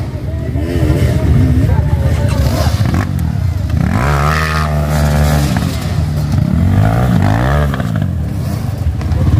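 Enduro motorcycles rev and strain on a hard trail in San Fernando City, La Union, engines rising and falling in loud close bursts with clatter, under excited shouting voices.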